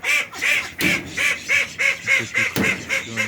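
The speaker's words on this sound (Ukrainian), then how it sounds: "качки є" A duck quacks repeatedly in a steady rhythm, about a dozen loud, close calls in quick succession.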